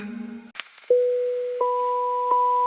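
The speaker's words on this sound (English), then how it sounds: "The sound of a modem restarting. Clicks, whirs, a soft beep." A modem restarting: a few soft clicks and a brief rustle, then a steady electronic tone that steps up with a second higher beep, droning on alone.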